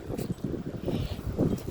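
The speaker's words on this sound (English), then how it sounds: "Now I'm just gonna video the wind." Strong wind blowing outdoors after a storm, a low, steady rumble and buffeting against the microphone with gusty swells and faint rustle, recorded close with no talking.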